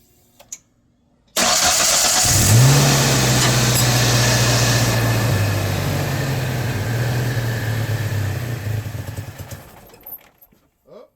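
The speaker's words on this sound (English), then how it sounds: "I'm going to get the engine started" A Mazda B2300 pickup engine, just fitted with a new mass airflow sensor, cranks and catches at about 1.5 seconds, then idles loudly and steadily, a little rough, for roughly eight seconds before the sound trails off. Nobody speaks.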